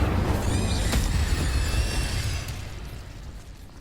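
A fiery Incendio spell blast erupts in Hogwarts Legacy, a loud roaring burst with crackling high sparkle that swells early, then fades into a rumbling tail over a few seconds.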